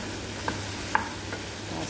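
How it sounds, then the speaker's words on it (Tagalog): Chicken sautéing without oil in a dry pan, with a steady soft sizzle and a few faint scraping stirs, quiet and close, no voices. "ginisa ko yung manok sa walang mantika"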